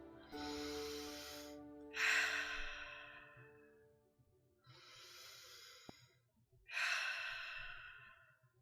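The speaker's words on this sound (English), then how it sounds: "Repeat, taking 2 more deep breaths in and out." Deep breaths drawn in through the nose and let out through the mouth, heard close and quiet in a calm exercise setting: two slow inhale-exhale cycles, each exhale a soft breathy sigh, with silence between.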